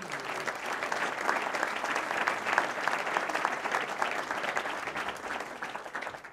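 Audience at an innovation awards ceremony in the hotel category, applauding steadily for several seconds, a sustained wash of clapping that fades at the end.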